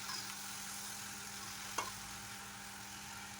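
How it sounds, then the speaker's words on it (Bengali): Pieces of taro sizzle steadily in hot oil in a home kitchen pan, a soft, even frying hiss throughout with one brief clink near the middle, no talking. "তো এই যে তেল গরম করে এখানে দিয়ে দিলাম কচুগুলো।"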